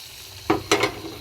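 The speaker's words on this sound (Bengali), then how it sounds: "ভেজে রাখা বড়িগুলো আমি দিয়ে দেবো।" Fried lentil dumplings (bori) tossed into a pot of simmering neem leaf shukto, giving two or three short close sizzling bursts against a quiet background hiss.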